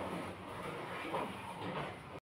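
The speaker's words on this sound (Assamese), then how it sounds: "এতিয়া ট্ৰেইনখন আহিব লাগিছিল" A train rumbles past near a riverside spot in Dibrugarh, a broad, continuous low roar of rolling wheels and carriages, steady and moderately loud for a couple of seconds before cutting off.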